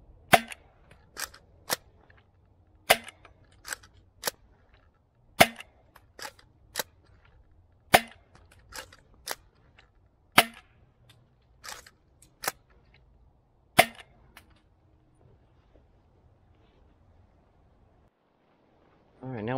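A Nerf DZP Mk 2 blaster fires Ekine Waffles foam darts in a steady series of about fifteen sharp, loud snaps a second or so apart, followed by a quiet stretch and a brief voice at the very end.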